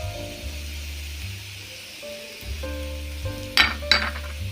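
Onion hits hot oil in a pan for paneer momos, giving a steady close sizzle and frying hiss with a few clinks of a utensil stirring near the end.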